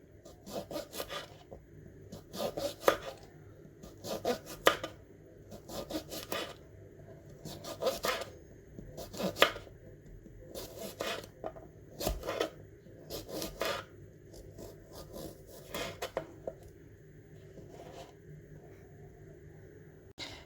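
Knife slicing through whole unpeeled cucumbers into medium-thick rounds, a steady series of crisp cutting strokes, close and fairly loud, with no one talking.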